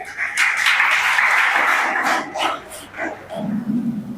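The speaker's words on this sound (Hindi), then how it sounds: "ताली बजा दो यार" Crowd of audience members clapping and applauding at a talk by a police officer on digital safety, a broad steady wash of hand claps for a few seconds before fading into a voice.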